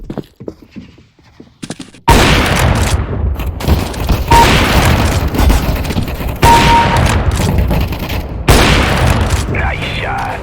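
Rapid, loud gunfire fills a Counter-Strike: Global Offensive team deathmatch on the Office map, with bursts and booming shots running almost nonstop after a quieter opening and game announcer voice lines heard over the shooting.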